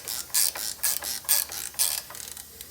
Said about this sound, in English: We gotta click this that way.